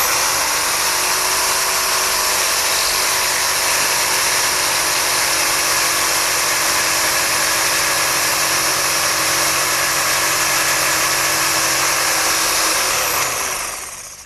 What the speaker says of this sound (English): I'll make those notches for my rails starting with my jigsaw